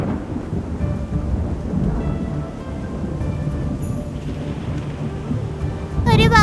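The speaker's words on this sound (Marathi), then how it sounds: "अरे बापरे, किती जोरात वारा सुटलाय. या वादळात झाड कोसळायला नको." A thunderstorm with strong wind and rain in a children's cartoon story makes a continuous, loud roaring wash with rumbling undertones, swelling into a sharper burst right at the end.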